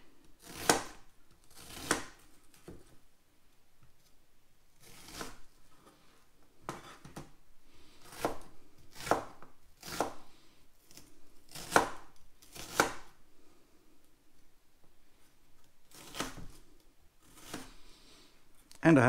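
A knife slices a red onion on a chopping board in repeated crisp, close cuts, coming in uneven bursts with short pauses in between.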